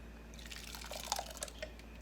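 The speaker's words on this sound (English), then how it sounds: "is pour it up in this bowl for Buzz and I for tonight." Tomatillo sauce poured into a bowl at close range, a quiet run of wet drips and splats that builds slightly in the middle and then thins out.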